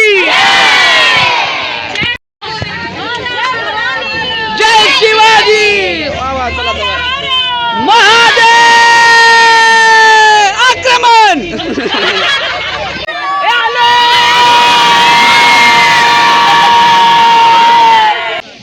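Large crowd at Raigad fort, a loud mass of voices chanting and shouting together in sustained waves of battle cries and cheering, close and continuous.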